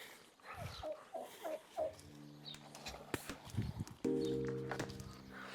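Turkeys on a Southern Arizona homestead gobble and chirp faintly amid outdoor rustling, with a few short calls early on and longer warbling tones toward the end.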